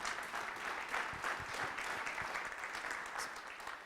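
Audience applause at a 1 Million Cups Wichita startup pitch gathering, a steady crackle of many hands clapping that holds an even, moderate level throughout, with a few sharper individual claps standing out near the start.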